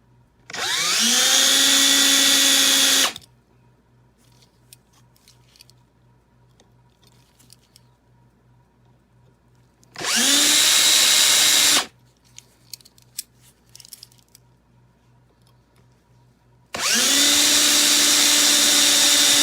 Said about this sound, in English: We've got it drilled apart, and this is what we've got.